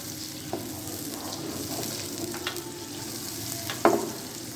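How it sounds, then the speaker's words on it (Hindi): Masala gravy for an egg and chickpea curry sizzles and fries steadily in a pan, a close, continuous crackle with a few stirring scrapes and a sharper clatter near the end. "और हम इसको फ्राई कर लेंगे।"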